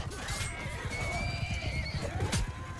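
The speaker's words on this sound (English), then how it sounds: "Oh no, I hit the horse." A horse in Mount & Blade II: Bannerlord lets out a loud, close whinny amid battle, with clip-clop hooves and thuds under it and a sharp crash near the end.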